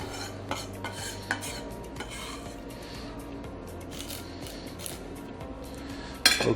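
Roughly chopped vegetables stirred and mixed in a pan with a utensil, soft scraping and clinking strokes repeating steadily at close range, ending with a brief louder clatter.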